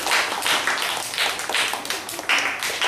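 A Year 4 class of schoolchildren claps for a classmate in a Malay-language lesson, a steady patter of many hands close by in the classroom, rising and falling in uneven bursts with no talking over it.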